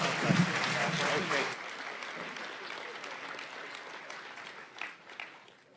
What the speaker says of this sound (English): Can we have a round of applause for our panel?